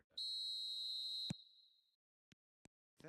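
A referee's whistle in an eFootball match: one long, shrill, steady blast lasting about a second, loud and close, followed by a few brief faint clicks and a short voice at the end.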